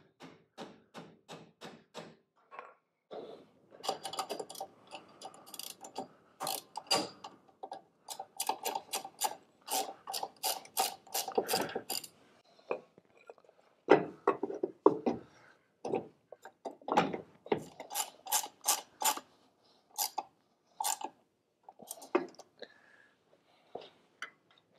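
A Jeep's steering mechanism is turned during a steering box swap: irregular bursts of mechanical clicks, ticks and light clunks come in quick runs separated by short pauses, close by and fairly quiet.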